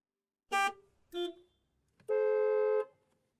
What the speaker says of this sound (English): the sound of traffic from outside.